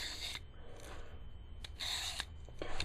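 A kitchen knife is drawn through a ceramic and carbide pull-through sharpener in a few separate raspy strokes, each a short gritty scrape up close, with the later strokes coarser and louder.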